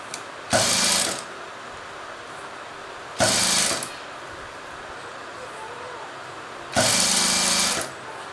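A sewing machine stitches a cross-cut blouse in three short, loud mechanical bursts of rapid stitching with quiet gaps between them, close to the listener.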